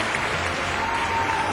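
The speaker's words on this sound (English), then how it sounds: "let's go ahead and applaud them" Brief burst of steady crowd applause at an awards night onstage salute, a continuous wash of clapping with music faintly underneath.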